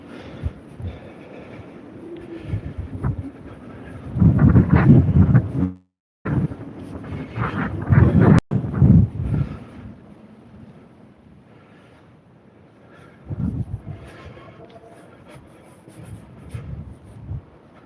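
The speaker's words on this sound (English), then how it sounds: "Nice and sunny, but also very, very windy at the same time." Strong wind gusts batter an outdoor microphone on a sunny day in the UK, loud rumbling buffeting bursts that come and go between quieter stretches.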